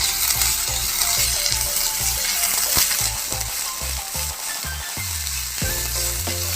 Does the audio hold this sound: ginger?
yes